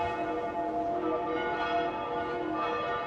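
A church bell in Zaragoza rings continuously with a rich, sustained metallic tone and layered overtones, steady and fairly prominent, with no voices over it.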